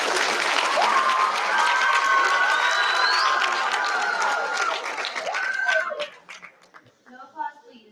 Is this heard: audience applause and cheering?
yes